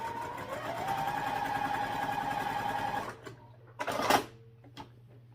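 A sewing machine top stitching a fabric sling runs in a fast, steady whirring drone for about three seconds, then stops, followed by a few brief handling clicks and rustles of fabric.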